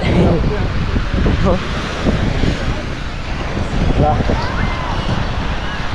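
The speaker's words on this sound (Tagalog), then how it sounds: "Sobrang lakas ng hangin, sinalimpad ng tent." Strong wind roars and buffets the microphone continuously, with people talking under the gusts.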